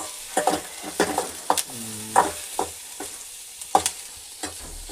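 Sliced onions fry in a small amount of oil in a pan, with quick spatula stirs and scrapes punctuating a soft background sizzle, close and without speech.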